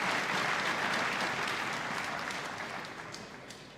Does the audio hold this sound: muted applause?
yes